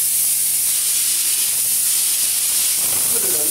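A drywall texture sprayer hisses steadily along a wall joint, a loud continuous airy spray from start to finish with a faint low hum beneath, and no speech.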